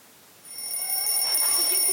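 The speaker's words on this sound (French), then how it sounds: "mais j'attends que le réveil sonne." An alarm clock starts ringing after a brief quiet moment, a steady high electronic tone that holds at constant loudness to the end, close and alone with no talk.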